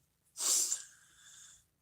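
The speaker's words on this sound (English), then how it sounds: "I feel like I'm about to sneeze, man." One close sneeze, a sharp burst followed by a fading breathy exhale, alone in a quiet room.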